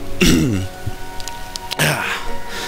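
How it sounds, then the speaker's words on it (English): A single close throat clearing, followed by a second rough rasp, over a steady hiss of background noise. "I had to clear my throat."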